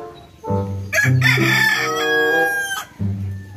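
A native chicken rooster crows loudly nearby, one long drawn-out cock-a-doodle-doo, followed by the start of another, in a rural countryside setting.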